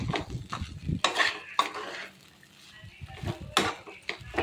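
A spatula scrapes and clinks as poha is stirred and mixed in a pan, with several bursts of scraping and faint sizzling between short pauses; no speech over it.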